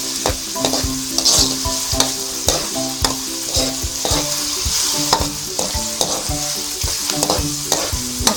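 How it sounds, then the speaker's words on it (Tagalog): Fishballs sizzle steadily in hot oil in a wok while a utensil stirs them with repeated sharp scraping clacks, close and continuous, with no talking. "Ang next po ay ilalagay ko na ang fishball sa loob ng kawali."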